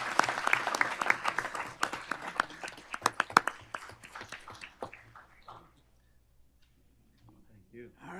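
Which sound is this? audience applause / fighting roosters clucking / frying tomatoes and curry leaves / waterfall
audience applause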